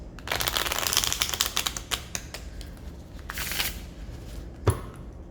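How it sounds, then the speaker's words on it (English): Rapid riffling bursts of cards being shuffled, several quick flurries close up, followed by a single sharp tap near the end. "So let's just shuffle the cards and see what we get."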